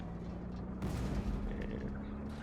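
A Leopard 1 tank gun fires in the video game Armored Warfare, a single heavy boom that rolls into a sustained, rumbling echo over a steady background hum.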